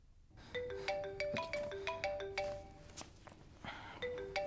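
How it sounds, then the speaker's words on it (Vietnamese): A telephone ringtone plays a bright, repeating melodic chime loop, loud and close, ringing steadily for several seconds with no one talking. "Con nghe điện thoại đi."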